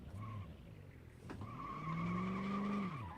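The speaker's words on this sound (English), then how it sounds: "You can, like, hear the tyres." Car tyres squeal in the Automation video game as a Family Guy-style station wagon slides, a sustained pitched screech after a brief chirp, loud and close with the engine barely audible beneath.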